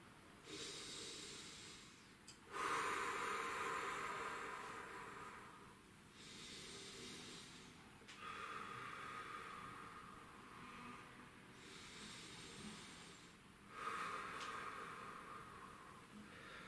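Slow, deep breathing during a guided grounding exercise, with long airy inhales and exhales repeating every few seconds, soft and close with a faint hiss beneath.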